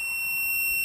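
A fire alarm buzzer driven by an Arduino with fire and smoke gas sensors sounds a steady, continuous high-pitched electronic tone, constant in level for the whole second with no talk.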